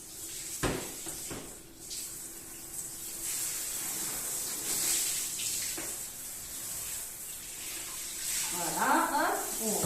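Running water rinsing body scrub off in a bathtub, a continuous spraying, splashing flow with a few sharp knocks and shifting splashes, loud and close throughout.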